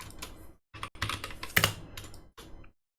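Typing on a computer keyboard, close and clear, comes in several quick bursts of clicking keystrokes separated by short silent pauses.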